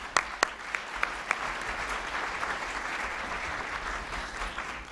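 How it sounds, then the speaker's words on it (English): Sustained applause from a luncheon audience welcoming a speaker, steady and close, with a few sharp individual claps standing out at the start. "Let's give a great round of applause to Pam Hyde."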